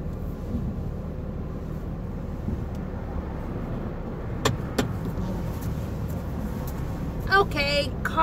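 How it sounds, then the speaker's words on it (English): A car being parked gives a low, steady interior engine rumble, with a few sharp clicks and a brief mechanical whir near the end. "So right now I'm just parking my car"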